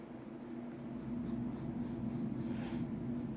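Pencil etching a road or nature-trail line into a drawing on paper, a steady close scratchy rasp that continues unbroken throughout, quiet and alone with no voices.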